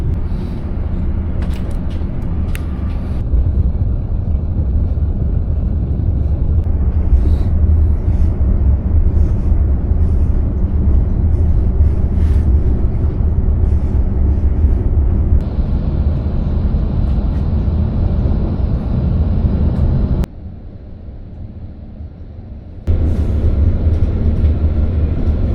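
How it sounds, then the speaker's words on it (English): Interior rumble of a passenger train bound for Sydney, a loud steady low roar with rattling and a brief quieter dip near the end, with no voices. "So this train's bound for Sydney."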